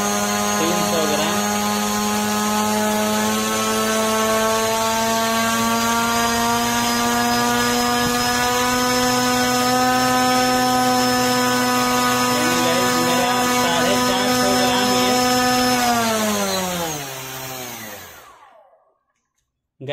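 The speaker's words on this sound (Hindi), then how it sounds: "8 इंच का प्रोपेलर है और ये 450 ग्राम इसका थ्रस्ट पैदा कर रहा है" A brushless drone motor spins an 8-inch propeller on a 3-cell battery, a loud steady high-pitched whine with a strong buzzing hum that holds for about seventeen seconds, then spins down and stops.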